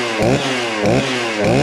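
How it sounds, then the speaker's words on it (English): A chainsaw fires up and revs in three quick surging pulses, loud and close, with no talking. "All right, so you got your saw, make sure it starts."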